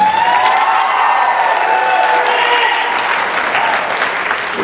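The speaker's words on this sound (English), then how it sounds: "You clap for Devin." Sustained audience applause for Devin, a trumpet player, at a Marlborough High School winter concert, steady loud clapping with some cheering throughout.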